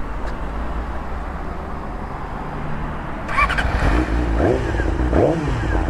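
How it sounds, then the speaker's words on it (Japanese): A Yamaha YZF-R6 sport bike fitted with a Maverick aftermarket exhaust fires up and revs, rising from a low idle rumble into two sharp throttle blips, heard close and loud over outdoor background noise. "マーベリックの音こんな感じです。"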